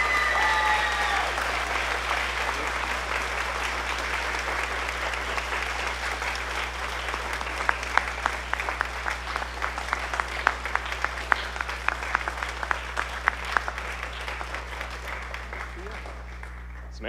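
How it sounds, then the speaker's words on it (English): Sustained applause fills a concert hall as the audience honors student band members, a dense, even roar of many hands with a low steady hum beneath, lasting well over fifteen seconds without speech. "Let's give all of these students a round of applause for their outstanding work"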